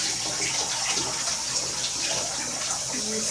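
Water runs steadily from a tap or sprayer during a dog's bath, a constant hiss of flowing water close by with faint background voices.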